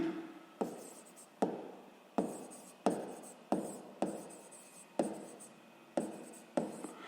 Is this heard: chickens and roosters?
no